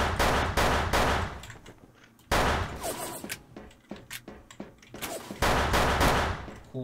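Gunfire crackles in the online shooter Wolfteam, with several loud, rapid bursts of shots separated by quieter gaps filled with scattered single reports and light clatter.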